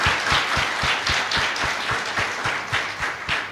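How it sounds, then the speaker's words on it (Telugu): An audience at a church field training programme claps loudly, a dense steady round of applause with regular rhythmic beats running through it, close and continuous from start to finish. "క్లాప్స్ కొట్టు గట్టిగా, కొట్టాల గట్టిగా"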